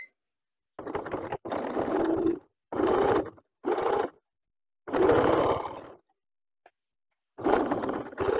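A sewing machine runs in several short bursts while stitching the darts of raglan sleeves, its motor whirring at close range and pausing between each run, with no talk over it.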